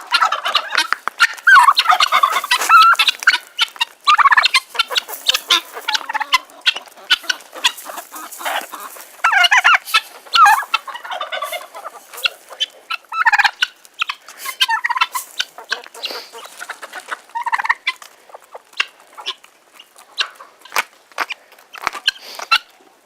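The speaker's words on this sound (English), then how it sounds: "Turkeys are following me." A flock of turkeys gobbles and clucks close by outdoors in the morning, making dense bursts of rapid, overlapping gobbles that rise and fall in waves, with no talk.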